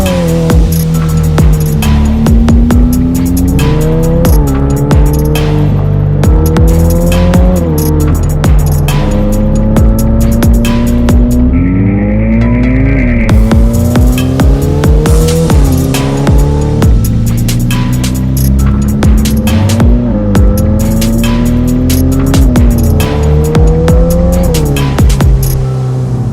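A Novitec Ferrari F8 Spider in Rosso Magma drives hard, its loud engine repeatedly revving up through the gears with sharp shifts and crackles, heard from up close for a long stretch.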